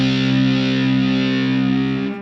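A single heavily distorted electric guitar power chord through a distortion pedal rings out loud and sustained, then is cut off abruptly.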